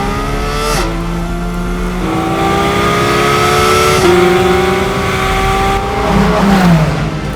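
A 2024 Porsche 911 S/T's engine revs hard from inside the cabin, rising in pitch through several gears with short breaks at each shift, loud and continuous with no talk.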